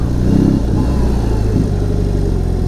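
A BMW R 18 B bagger motorcycle in rock riding mode, its big boxer engine rumbling loud and close with a low throttle swell early on, then settling into a steady heavy drone.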